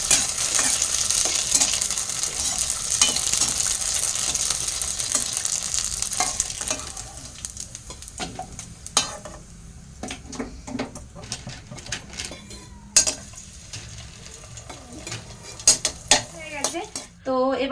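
Fuchka puri shells frying in a pan at home, with a steady close sizzle and hiss for several seconds that thins out, followed by scattered clinks and scrapes of a utensil stirring against the pan.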